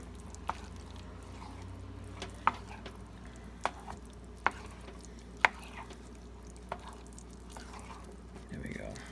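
Smoked mac and cheese is stirred in a pot, giving a string of faint, sharp spoon clicks and soft squishy taps at irregular intervals over quiet background noise.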